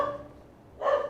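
A dog, Ruth, barks indoors in the background: two short woofs about a second apart, moderately loud, with a quiet gap between them.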